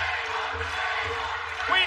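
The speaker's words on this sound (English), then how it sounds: "Impact Zone crowd roars their approval." Wrestling crowd in the Impact Zone arena roaring its approval, a steady broad wash of cheering and yelling with a swell near the end.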